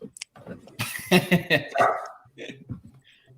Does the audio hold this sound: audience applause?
no